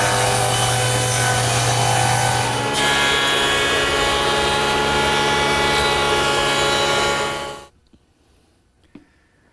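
A saw rips a wood strip about 1.5 inches wide in a garage workshop, a loud, steady whining cut lasting several seconds before stopping abruptly into quiet.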